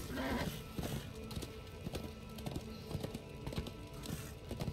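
Horse hooves clip-clop in a steady galloping rhythm as a rider travels through the video game Darksiders 2, fairly close and continuous throughout.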